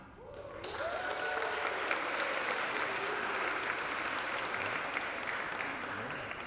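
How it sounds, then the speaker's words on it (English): A crowd applauds at the ACS Beirut graduation ceremony as Presidential Award recipients are named: dense, sustained clapping from many hands, loud and continuous, with a faint voice over the hall at the start. "Please hold your applause till the end"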